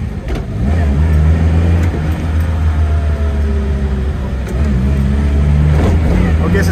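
A 1965 Fiat 1100 engine revs up while the car is driving, a loud close mid-pitched drone that rises and holds with shifting pitch, with road rumble beneath and no speech over it.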